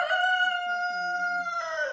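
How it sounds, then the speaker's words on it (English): A rooster gives one long, sustained crow, loud and close, with faint background voices beneath it. "A male chicken."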